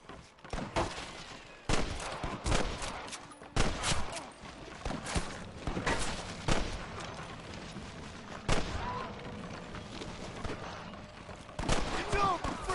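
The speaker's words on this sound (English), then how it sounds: "I can hear more gunshots." Gunfire rings out in a Western-style shootout in the video game Red Dead Redemption 2: scattered sharp shots, some in quick bursts, come at irregular intervals over a rumbling background, with voices heard briefly near the end.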